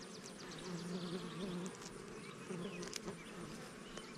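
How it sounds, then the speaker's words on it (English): Honey bees, including small juvenile bees, buzz inside a beehive during honey robbing, a soft continuous droning hum with a few brief louder passes. "So I got some smaller little juvenile bees in there"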